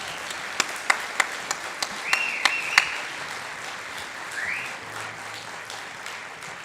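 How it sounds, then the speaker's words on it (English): Sparse claps ring out across a noisy room at a concert, a handful of separate sharp hand claps rather than full applause, over a background murmur. "I thought that deserves another round of applause"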